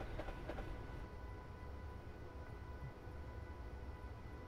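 A heavy train from Train Simulator 2018 on the Brighton Main Line labors uphill, giving a steady loud low rumble with constant engine drone and no voices over it.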